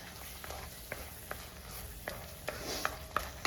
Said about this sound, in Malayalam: എല്ലാം കൂടെ ഒന്ന് മിക്സ് ആകത്തക്ക രീതിയിൽ നന്നായിട്ട് ഇളക്കി കൊടുക്കാം